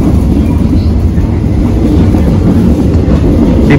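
A Malabar business-class train rolling on rails between Bandung and Malang, heard from inside the carriage as a loud, steady low rumble with faint rhythmic clacking running through the whole stretch.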